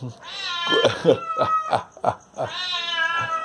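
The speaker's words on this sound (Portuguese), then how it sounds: "Chegou o gato aí. Chegou o gato." A cat meows loudly and close by in a string of insistent, drawn-out wails and shorter yowls, with brief pauses between calls.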